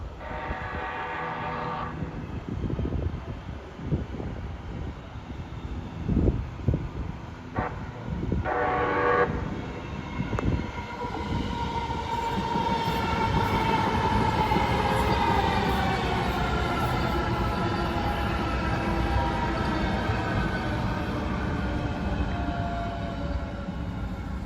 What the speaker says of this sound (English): we're gonna get to see a pre-revenue test train come through